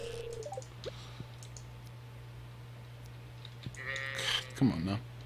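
A goat in the farming game Stardew Valley gives a short, fairly loud bleat near the end, after a stretch of quiet game ambience and a steady hum, with a few clicks earlier.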